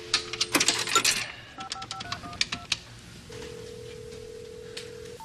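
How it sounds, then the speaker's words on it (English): Telephone keypad being dialed with a rapid series of short touch-tone beeps and clicks, followed by a long steady dial tone, close and clear with no talking. "I only get two chances to dial this phone."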